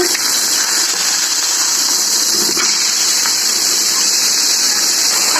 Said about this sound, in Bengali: পাঙ্গাস মাছের এত পরিমাণ তেল ছোটে, আমার ভয় লাগে মাছ ভাজতে